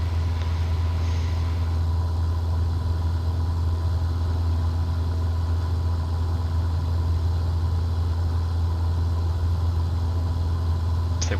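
A steady, loud aircraft engine drones at full power in Microsoft Flight Simulator 2024, a constant low hum with no breaks, heard alone throughout.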